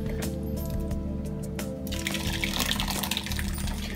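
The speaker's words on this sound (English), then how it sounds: "Chicken's cubed, put it in the crock pot, pour in your gravy." Thick gravy poured from a container into a crock pot over cubed chicken, a wet glugging and squishing pour that grows denser halfway through, close up, with no talk.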